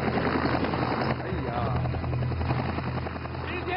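A steady helicopter rotor drone hums continuously in the background while someone talks over it.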